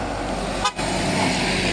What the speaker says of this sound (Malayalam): കുറേ വണ്ടി കുറേ വണ്ടി വരുന്നുണ്ട്